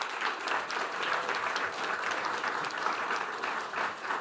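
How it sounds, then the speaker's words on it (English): An audience at a school district board meeting applauds steadily for a Classified School Employee of the Year, the dense clapping holding an even level throughout with no voices over it. "Give her a round of applause."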